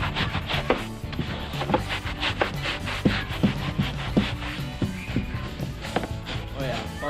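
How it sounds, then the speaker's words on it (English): Scrubbing a grimy Sea-Doo jet ski hull by hand with bleach and Bar Keepers Friend cleanser: steady, close rasping strokes in an uneven rhythm, punctuated by sharper scraping hits, with no talk. "So I'm gonna try some bleach, some barkeeper's friend, and scrub it off."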